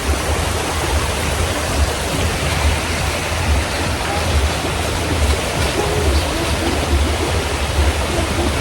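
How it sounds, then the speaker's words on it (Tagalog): Strong flowing water, a loud, continuous rushing roar close by with heavy low rumble and unbroken hiss, no voices over it. "malakas ang tubig"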